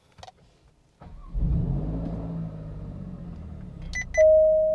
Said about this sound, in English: Then we're gonna go ahead and start the car once again.